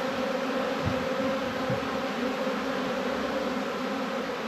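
Honey bees swarm around hive frames during a hive inspection, giving a steady, dense buzzing drone that stays close and loud throughout with no speech over it.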